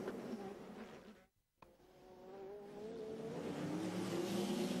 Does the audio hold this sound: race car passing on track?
yes